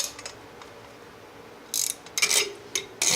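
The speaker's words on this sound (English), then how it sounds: "And we're just going to ratchet this thing" Ratchet wrench turning a bolt on a Can-Am X3 primary clutch during a clutch kit install: quiet at first, then several short bursts of ratcheting clicks in quick succession, close by, with no talking.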